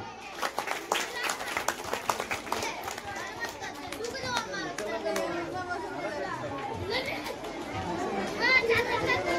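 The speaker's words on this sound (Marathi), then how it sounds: "जोरदार टाळ्या" Applause at a school retirement farewell ceremony, scattered hand clapping from a crowd mixed with children's chatter and voices, rising slightly toward the end.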